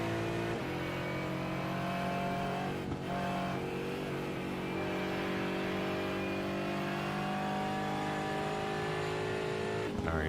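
Race cars in a sim racing video game at Barber, part of a sportscar series, with engine note steadily falling and shifting as they brake into a dip, a continuous loud drone with a couple of gear changes and no voices.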